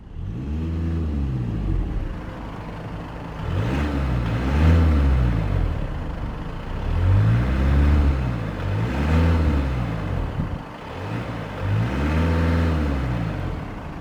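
Diesel 2.0 TDI engine of a 2019 Volkswagen Passat Estate GT revved repeatedly against its roughly 2,500 RPM limiter, four or five rising and falling bursts in a steady loud rhythm with no talk.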